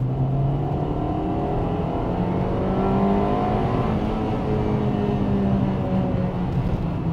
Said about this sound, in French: On sent que en fait, il se réveille, le VTEC, il déclenche, c'est presque un effet turbo.